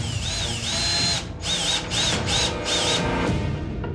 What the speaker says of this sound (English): there are not many other alternatives but to drill the board